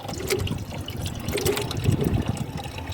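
Homemade liquid fertilizer pours into a bucket of water for a vegetable garden, a close, continuous splashing trickle with small gurgling swells.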